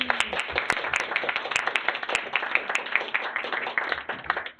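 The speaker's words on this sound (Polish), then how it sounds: "Zapraszamy oklaski" Audience applause at a garden-design talk, a steady dense burst of many hands clapping that runs throughout and fades out at the end.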